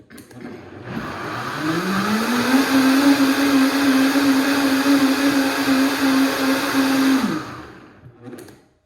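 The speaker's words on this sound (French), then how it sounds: "ça sent tellement bon avec la vanille, donc je vais juste terminer de le mélanger." A blender mixing a two-ingredient vanilla drink winds up from a low start, runs at a steady loud whir for about five seconds, then shuts off and spins down; no one speaks.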